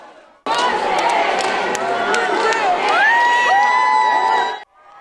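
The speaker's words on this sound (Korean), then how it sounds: "열차가 내린 울산역 광장에도 지지자들의 함성이 가득 찼고" Supporters crowded into the square at Ulsan station cheer and shout, a loud, dense roar of voices with whoops and high yells that swells and then cuts off abruptly.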